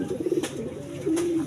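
A racing pigeon arriving home from a 109 km training flight gives brief, close, low throaty coos, a quick warbling run followed by a short sustained note.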